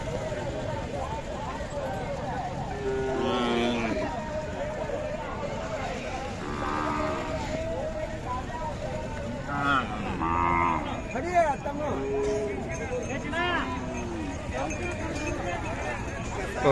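Cattle moo repeatedly at the Sangola Khillar cattle market, several calls near and far amid crowd bustle, with people talking throughout.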